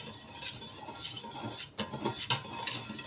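Cake batter being stirred in a bowl, a continuous scraping and swishing close up, with a couple of sharp clinks of utensil against the bowl.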